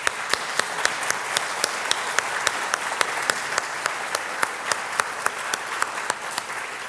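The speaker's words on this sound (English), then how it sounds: "She deserves a round of applause." Steady applause from a lecture audience, dense clapping with sharp periodic accents throughout, fairly loud and continuous with no talking.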